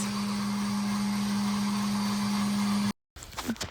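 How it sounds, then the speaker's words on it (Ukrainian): A blender drones loudly and steadily with a constant whine while mixing minced meat filling with onion and garlic, then cuts off abruptly, leaving brief clattering handling noises. "Я це все збила гарно блендером."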